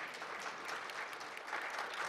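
A forum audience applauds as a panelist is introduced, steady crowded clapping held at a moderate, fairly distant level throughout.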